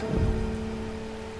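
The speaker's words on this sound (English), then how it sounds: "it's raining outside" Steady rainfall in the video game Strange Horticulture, with a soft, even wash of noise and a low rumble, accompanied by faint sustained musical tones.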